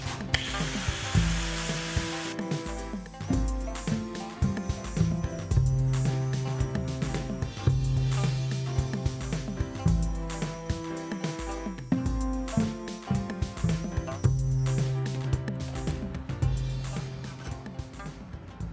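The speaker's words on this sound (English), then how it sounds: "we got that grinded down now" A power tool grinds continuously at close range, cutting a clearance notch for a V8 engine installed in a Ford Pinto, with a steady whine and brief dips in pitch, no talking.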